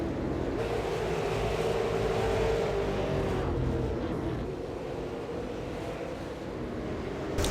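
Race cars at Oxford Plains speedway during the Weekly Press 150, a steady roar of engines sweeping past with a rising and falling drone, fairly distant and continuous.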